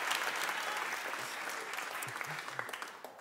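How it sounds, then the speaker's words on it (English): A comedy-special audience applauds loudly, with dense clapping from a large crowd that stays strong and then slowly tapers, with a few scattered whoops and crowd voices mixed in. "I don't have a joke, I just like the applause."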